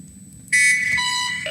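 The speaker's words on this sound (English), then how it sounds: "There goes the alarm." Alarm in the Planetbase video game suddenly sounds, a loud electronic tonal blare with shifting pitched layers that holds steady after a quiet start.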